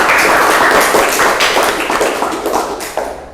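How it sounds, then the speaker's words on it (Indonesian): Children in a classroom clap hands in a brief burst of applause, dense and loud at first, then thinning and fading out. "Tepuk tangan untuk kita semua."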